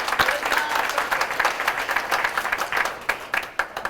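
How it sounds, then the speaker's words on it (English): A school audience claps for a student at a Terrific Kids award ceremony, a dense burst of applause from a crowd, moderately loud and continuous for a few seconds. "Go ahead and clap it up for him."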